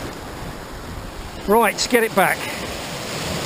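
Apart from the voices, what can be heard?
sea waves on the shore, choppy water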